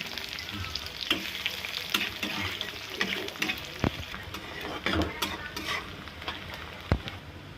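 Onions frying in ghee with cardamom, cinnamon and bay leaves, giving a continuous crackling sizzle close up, with repeated clinks and scrapes of a spoon stirring in the pan.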